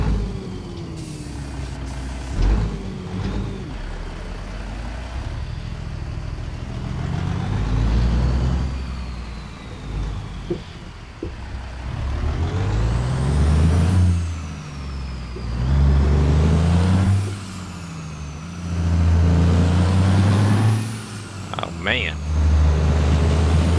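A Peterbilt 389 truck with a Cummins N14 engine and 18-speed transmission hauls cattle across Colorado, its deep diesel drone rising and falling through gear changes, with a hiss like an air brake and some voices mixed in.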